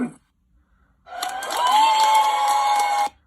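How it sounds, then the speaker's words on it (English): A crowd cheer sound effect from the Stop Motion Studio app: a dense, loud roar of many voices and shouts that rises suddenly after a brief pause, holds steady for about two seconds, then cuts off sharply. "a crowd cheer,"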